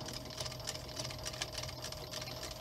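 A TK341 sewing machine runs with the pedal held down, giving a continuous fast mechanical whir with rapid, even stitch ticking at a moderate, fairly quiet level and no talking.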